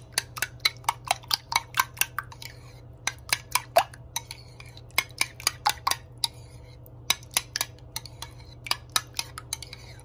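A hair treatment mixture is stirred in a bowl, giving a quick, irregular run of close, light clinking and tapping strokes against the bowl over a low steady hum, with no talking.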